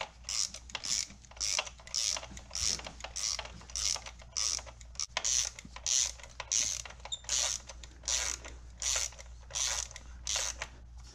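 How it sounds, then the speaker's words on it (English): A hand ratchet tightening a spark plug in the cylinder head of a 2011-2013 BMW X5 E70 with the N55 engine, giving a run of about fifteen rhythmic clicking bursts close by at an even back-and-forth pace. "then you can use the ratchet"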